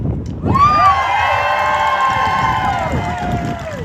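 A large outdoor rally crowd in Trenton erupts into loud, sustained cheering and whooping that swells quickly and holds steady, filling the space around the stage.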